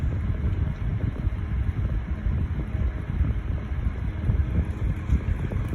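A 2002 Aries 10-inch three-speed box fan, model YFC1002, runs on high with a steady broadband whoosh of moving air and a faint continuous rattle. It is close and fairly loud, with no talking.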